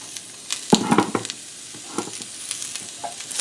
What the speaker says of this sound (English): it says to saute the onions first and then the garlic. So I'm going to put the onions in.